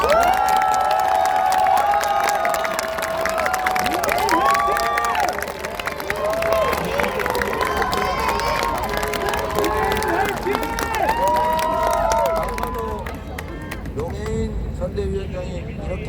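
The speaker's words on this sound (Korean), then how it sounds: "소개 드릴 때 박수 한번 주세요" Crowd at a political rally outside Gangnam Seoul Express Bus Terminal subway exit 1 cheering and applauding, loud and continuous with shouting voices over it, fading somewhat near the end.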